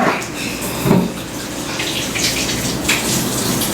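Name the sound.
rinsing a spatula under running tap water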